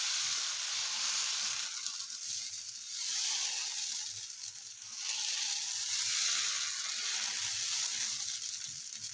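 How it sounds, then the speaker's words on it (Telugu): A ladleful of dosa batter spread on a hot pan gives off a constant, fairly loud hiss that swells and eases in slow waves. "ఇప్పుడు దోశ వేసుకుందామండి"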